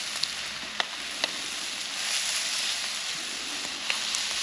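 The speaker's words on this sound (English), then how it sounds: "So here go the eggs. These are ranch eggs." Ranch eggs frying on a hot flat top griddle, a steady close sizzle and hiss with a few sharp pops and crackles scattered across it, no talking.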